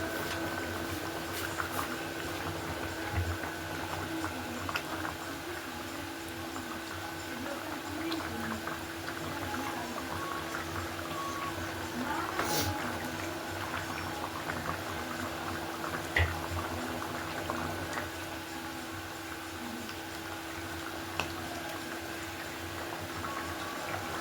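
A thin curry of small charapona fish bubbles steadily in a pot, a continuous soft boiling hiss with a few faint clicks and no voices.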